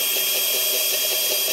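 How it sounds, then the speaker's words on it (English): A power saw whirs steadily at close range in a fabrication shop, a continuous high buzzing motor with a slight rhythmic pulsing, no voices. "let's get this saw fired up here"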